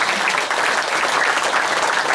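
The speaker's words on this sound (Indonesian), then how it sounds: "Tepuk tangan." Steady, dense applause from a large audience at a family-themed religious talk, filling the whole moment loudly and evenly without a break.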